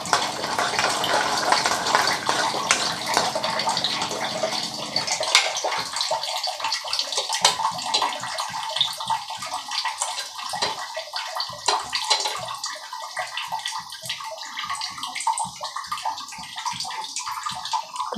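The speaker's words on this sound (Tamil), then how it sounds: "அதில் கடுகு, உளுந்தம்பருப்பு போட்டு தாளிச்சிட்டு கருவேப்பிலை போடலாம்." Mustard seeds and urad dal sizzle and crackle in hot oil in a pan for bitter gourd kootu, starting as a loud, steady hiss and settling into a dense, continuous popping sizzle.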